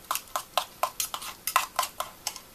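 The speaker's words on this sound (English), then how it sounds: "Give it a little stir." White chocolate being tempered is stirred in a bowl, giving a steady run of about a dozen light, quick scraping clicks at a brisk, even rhythm, close and fairly quiet.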